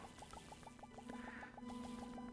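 Moons being collected in a video game about feeding a black hole: a rapid, evenly spaced run of soft chirping blips over a steady electronic hum, clear and close.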